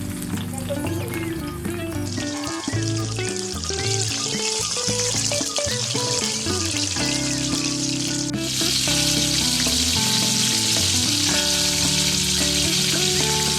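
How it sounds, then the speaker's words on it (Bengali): Koral fish sizzles in hot oil, a loud, constant hissing fry running the whole time beneath a tonal, music-like background, with no talk. "আমি মাছটাকে তেলের ভিতরে দিয়ে দেবো।"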